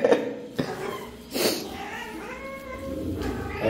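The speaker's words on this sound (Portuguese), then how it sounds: "Eita, é uma cantoria só. Vamos ver esses gatos." Several cats meowing repeatedly, loud and close, with overlapping drawn-out cries and short calls in quick succession, no speech.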